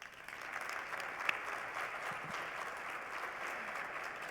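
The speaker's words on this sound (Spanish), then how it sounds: "para la que pido, por favor, un fuerte aplauso" Conference audience applause at a cybersecurity panel, a soft, steady patter of many hands that sounds distant and fairly quiet and carries on for several seconds.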